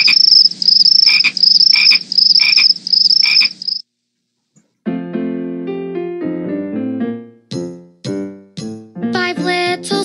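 Cartoonish frog croaks repeat rhythmically in a children's song, four loud ribbits followed by a pause and then a bright, bouncy musical phrase of tinkling tones.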